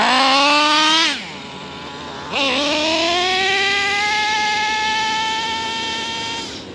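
Traxxas T-Maxx nitro RC truck engine screaming at high revs, dropping briefly then climbing again into a sustained whining rev, loud and close with no talking.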